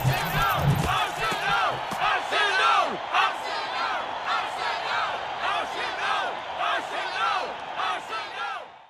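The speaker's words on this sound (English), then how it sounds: "This chanting is one of the ways fans cheer on the Arsenal Football Club in England" Arsenal football fans chanting in England, a large crowd roaring rhythmic, drawn-out chants together, loud and continuous with a dense stadium wash throughout.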